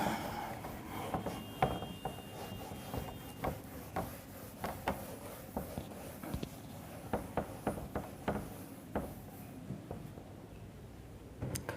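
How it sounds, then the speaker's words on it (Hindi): Eraser rubbed across a classroom board during a chemistry lesson, heard as a series of short, dry scraping strokes in irregular bursts, close and moderately loud, with no talking. "ओके, रब कर देते हैं यहाँ पर।"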